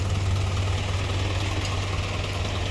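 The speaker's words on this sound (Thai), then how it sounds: "รถไถมาดึงขึ้นครับ" A tractor engine drones steadily while pulling a loaded truck up a slope: a loud, constant low rumble with a close idling throb and no voices.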